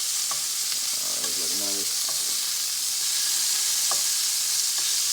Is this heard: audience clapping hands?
no